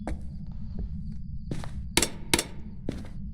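Several heavy, hollow thuds and knocks of ghost footsteps upstairs in the video game Phasmophobia land irregularly, a couple of them louder clangs, over a constant low hum with no voices.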